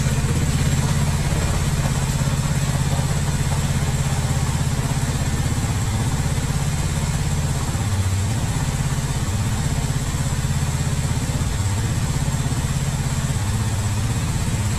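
A Honda CD 70 motorcycle engine runs steadily at close range, a loud, continuous low putter with a slight unevenness through the run, heard alone without any voices.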